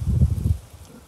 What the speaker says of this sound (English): Wind's picked up a bit now, stopped raining.